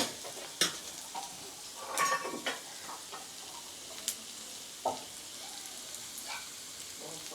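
Chopped onions cooking in a pan for iftar snacks, a soft continuous sizzle broken by occasional stirring clatters and scrapes, close but fairly quiet, with no talk.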